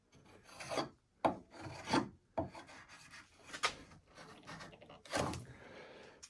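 A Wood River adjustable spokeshave shaving wood in repeated rasping strokes, about six uneven close pulls separated by short pauses, with no talking.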